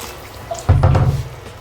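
Hot water poured into a cooking pot with chicken and tomato paste, a short splashing pour lasting about half a second, close and fairly loud.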